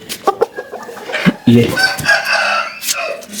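Chickens clucking close by with a rooster crowing, loud bursts of calls broken by a brief spoken word.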